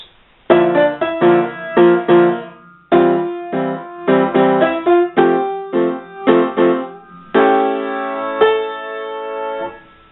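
Piano chords played in a flowing, rhythmic pattern, some notes clashing, ending on a sustained chord; loud and close with no speech.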